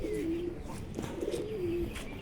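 Pigeons, including white ones, cooing close by in cages in soft, low, rolling calls, with faint background ambience.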